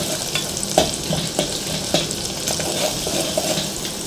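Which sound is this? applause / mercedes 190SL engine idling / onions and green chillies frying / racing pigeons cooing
onions and green chillies frying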